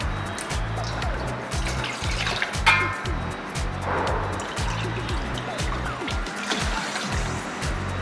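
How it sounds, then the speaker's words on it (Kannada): Water is poured into steamed Bombay rava, a close, continuous gurgling trickle with a rhythmic glugging pulse, with faint clinks and no talking. "ಒಂದು ಲೋಟ ರವಕ್ಕೆ 1 ಲೋಟ ನೀರು ಹಾಕಿ"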